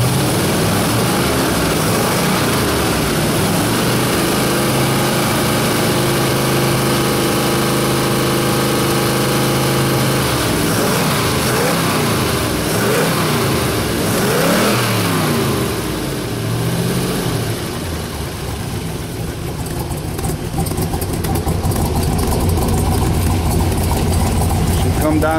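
A 1966 Trophy Blue Corvette with a 427 solid-lifter big-block V8 rated at 425 hp idles loudly and close with a lumpy, loping rhythm, then revs up and settles back, while someone talks over it.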